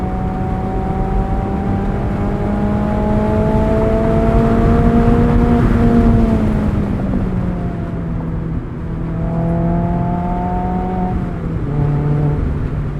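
A modified 2019 Mazda MX-5 Miata 30th Anniversary engine runs steadily while driving, its smooth harmonic tone rising slightly and then dropping as the revs change, close and continuous throughout.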